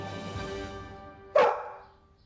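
A dog gives a single sharp, close bark that trails off, after a quieter low vocal at the start, with no talking.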